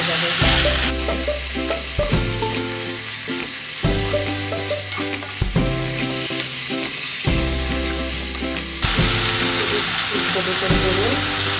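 Chicken meat fries in very hot oil while being stirred, a loud, continuous sizzle broken by repeated scraping strokes of a spoon in the pan, with a person talking over the cooking.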